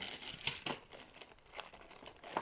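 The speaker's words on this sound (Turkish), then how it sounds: "Diğer e, kutuyu açalım." Packaging crinkling and rustling as a Monster Abra A5 laptop box is opened, soft close crackles and crumples in quick irregular bursts, with no talk.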